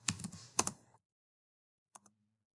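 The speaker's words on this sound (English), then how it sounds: "we're going to type in Activity" Fast keystrokes on a computer keyboard while text is entered into a spreadsheet header, a dense burst of close clicks for about a second, then two isolated taps after a pause.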